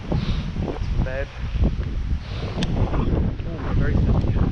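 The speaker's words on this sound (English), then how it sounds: "Oh, very windy, very windy." Gusts of wind buffet the microphone with low rumbling bursts, while a voice speaks faintly underneath.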